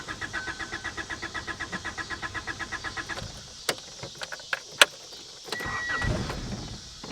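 A 1985 Honda Accord with stale, bad fuel cranks over and over with a rapid, rhythmic starter churn that does not catch, then stops, leaving a few clicks and clunks and a low rustle.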